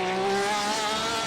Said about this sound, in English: Porsche's so loud now.